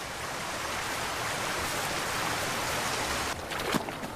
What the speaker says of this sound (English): now the autumn rains have really picked up